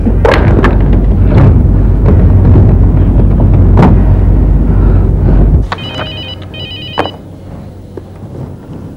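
A telephone rings in a Hindi television serial, loud dramatic music and bangs giving way to a clear electronic ring repeated twice in quick bursts.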